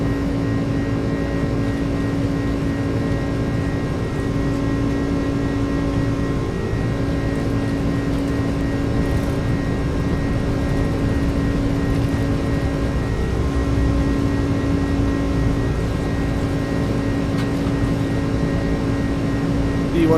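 The jet engines of an iniBuilds A300 cargo airliner in Microsoft Flight Simulator roar steadily through the takeoff roll, with a constant deep rumble and a sustained whine.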